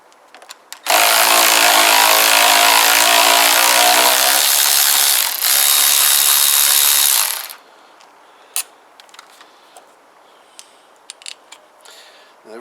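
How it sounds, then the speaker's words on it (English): A power ratchet whirs loudly for several seconds removing the brake lever from a Kawasaki BN125 Eliminator handlebar, then cuts off, followed by quiet clicks and small metallic taps of parts being handled. "I'm going to take this brake lever off."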